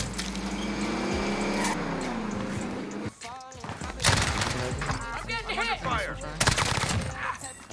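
Gunfire in Call of Duty: Warzone, dense bursts and scattered shots over busy game effects, with players talking throughout.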